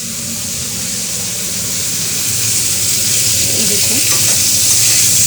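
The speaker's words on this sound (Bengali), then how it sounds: "আলু ফুলকপির রসা রান্না করছি।" A potato and cauliflower curry cooking in a pan gives a loud, steady, broadband sizzle with bubbling and occasional stirring, growing slightly louder over time while a voice speaks briefly.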